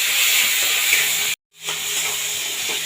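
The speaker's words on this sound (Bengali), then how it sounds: "চিংড়ি মাছটা দিয়ে দিলাম। চিংড়ি মাছটা একটু লালচে করে ভেজে নেব।" Prawns rubbed with salt and turmeric hiss and sizzle loudly in hot mustard oil, a steady bright frying noise that cuts out briefly, then resumes at full strength.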